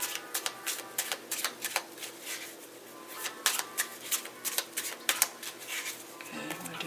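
A deck of tarot cards is shuffled by hand in rapid, crisp riffling flicks and soft taps, close and fairly quiet, with short bursts coming in a steady rhythm over several seconds.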